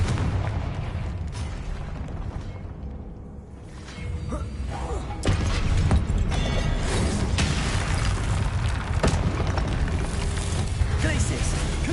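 Confringo fire spell blasts in Hogwarts Legacy burst out in loud, rumbling explosions amid continuous combat noise, with sharp impacts and whooshes, one heavy blast kicking the level up midway and dense battle clamor following.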